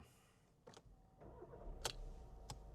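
A 2019 VW Golf VII 2.0 TDI inline-four turbo diesel engine cranks and catches, with a few clicks and a rising low rumble as it starts up, fairly quiet overall.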